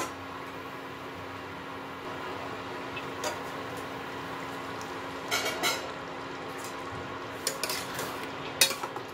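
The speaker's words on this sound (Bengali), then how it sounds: "পনিরের সাথে এটা একটু ফুটিয়ে নেব ঝোলটাকে।" Paneer simmering in gravy in a pan, a low steady bubbling hiss throughout with a few faint clinks of a utensil against the pan, no talking.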